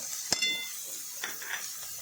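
Onions frying in a pan with turmeric, coriander, cumin and salt for a drumstick curry are stirred, giving a soft sizzle under a sharp spoon scrape and a couple of faint stirring scrapes.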